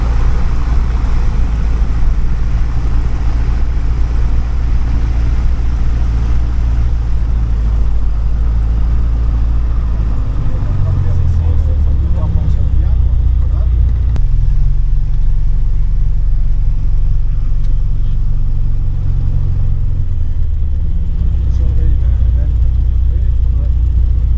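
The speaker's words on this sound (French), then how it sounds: "Et ses moteurs à haut régime." The engines of the light aircraft F-GCAR run at high RPM, a loud, steady, droning rumble that continues throughout with slight shifts in pitch, close and dominant.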